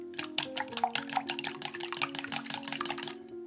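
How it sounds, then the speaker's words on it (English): Eggs mixed with a tablespoon of mirin are beaten vigorously in a bowl. Rapid, rhythmic clicking and sloshing strokes continue evenly and close throughout, with no talk. "Beat vigorously."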